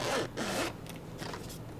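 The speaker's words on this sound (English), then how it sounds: "It's a dual zipper." A dual zipper on a hard shell controller carrying case is pulled in several close, loud rasping strokes of varying length, with no talking.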